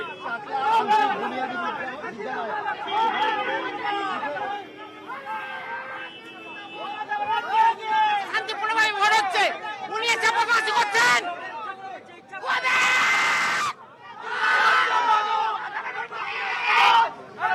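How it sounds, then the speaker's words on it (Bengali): Protesters in Keshiari chant go-back slogans at a campaigning candidate during a Lok Sabha election event, loud rhythmic group shouting mixed with crowd chatter and a reporter's voice, with bursts of noise throughout. "অগ্নিমিত্রাকে গো ব্যাক স্লোগান কেশিয়াড়িতে।"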